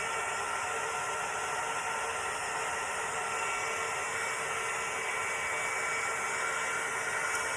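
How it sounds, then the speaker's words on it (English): A handheld heat gun warms up, blowing a steady, even hiss of hot air with a faint motor hum beneath. It runs close, at moderate volume and without a break, and no one speaks. "while my heat gun heats up"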